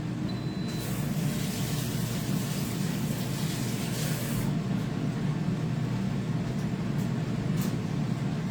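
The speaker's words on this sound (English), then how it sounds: "we got us some bacon in the air fryer" An air fryer runs with bacon cooking inside, a steady close hiss and whoosh of the fan and blowing air, with a few faint clicks and no voices.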